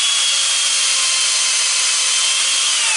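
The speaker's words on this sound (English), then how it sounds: "Put it on the sander and just sand the bottom of it." End of a wooden dowel pressed against a power sander, a loud continuous abrasive hiss and grinding rasp with a steady motor hum underneath, unbroken throughout.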